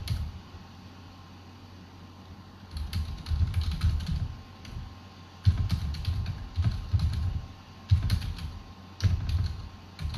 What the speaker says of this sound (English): typing's atrocious tonight.